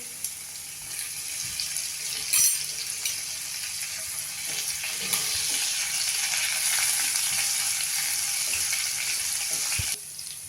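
Butter and onion frying in oil in a pan, a soft continuous sizzle with a few small clinks and stirring sounds, close and fairly quiet.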